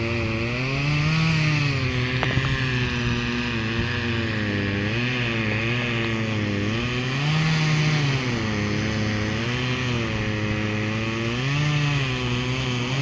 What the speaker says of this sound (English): Watching the guy across the street mow. He's got a rider.